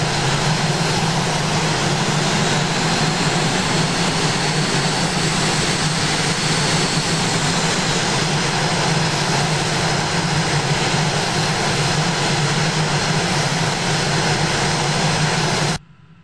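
An F-5E jet fighter in a flight simulation game runs a steady, loud jet engine roar for takeoff, holding constant before cutting off abruptly at the end.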